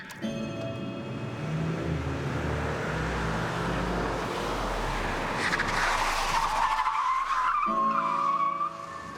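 Stunt car skidding on a film set, tires squealing over a revving engine that builds toward a loud screech, then cuts off abruptly near the end, with no voices.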